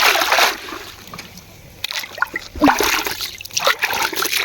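Water splashing and trickling as chickpeas are dipped to eat outdoors in a village field, with short wet splatters and dribbles, close and moderately loud.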